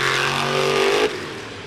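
Grave Digger monster truck engine revving at a Monster Jam event in Nashville, a loud rising roar that cuts off abruptly and drops to a quieter rumble.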